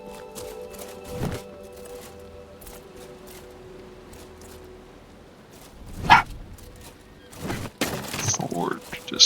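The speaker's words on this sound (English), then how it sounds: "Why are you barking?" A dog in the Wardens of Avalon video game lets out a few sharp barks and yips, mostly in the second half, over quiet game ambience with a voice talking.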